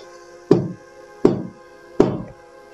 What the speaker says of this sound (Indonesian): telinganya mendengar suara ketukan di jendela kamar